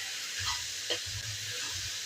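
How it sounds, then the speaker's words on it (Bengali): Vegetables for vegetable rice frying in a pan, giving a soft, steady sizzle with a few faint stirring scrapes, quiet and close. "তো প্রথমে এইভাবে ভাজা করে নিই"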